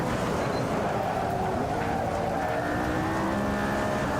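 A McLaren P1 driven around the Nordschleife in the racing game Assetto Corsa, its engine droning steadily and loudly throughout with continuous road and tyre noise, no voices.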